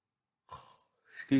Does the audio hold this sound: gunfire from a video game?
no